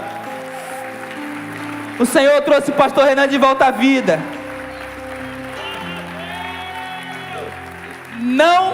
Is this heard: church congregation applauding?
yes